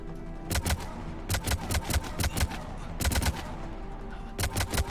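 Rapid bursts of gunfire from the video game Mass Effect 3, with repeated clusters of sharp, loud shots in quick succession and short pauses between volleys, heard alone without talk.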